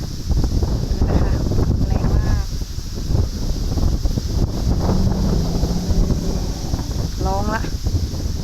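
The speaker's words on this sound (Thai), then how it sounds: "ลมแรงมากนะคะ" Strong wind blowing outdoors across grass in cold weather, loud continuous gusty buffeting on the microphone, with someone talking over it and a few animal cries in the background.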